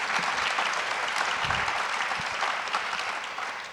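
An audience at an education survey launch event applauds, steady dense clapping filling the room for nearly four seconds and slowly thinning toward the end, with no voices on top.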